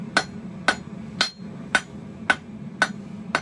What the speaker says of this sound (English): building heat with your hammer so you can get a nice point in one heat